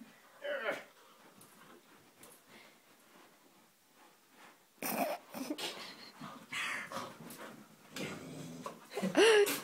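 A dog playing tug of war gives low, rumbling growls and snorts in bursts between quieter breathing, close to the listener, mixed with scuffling, and a person talks over it at times.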